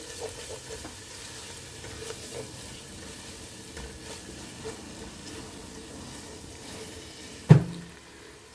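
Garlic-ginger paste and green chilli masala frying for butter chicken karahi produce a low, steady sizzle with soft stirring, then one sharp utensil knock near the end.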